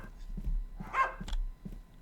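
A dog in the horror game Bark lets out a single short bark, fairly faint, set against a soft rhythmic background thumping.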